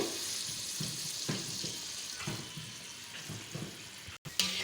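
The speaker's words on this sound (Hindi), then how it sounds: "जो हमने पानी रखा था वो इसमें थोड़ा सा ऐड करेंगे।" Water is poured into partridge masala frying in a pan, producing a continuous hissing sizzle with bubbling and occasional stirring scrapes, close and moderately loud.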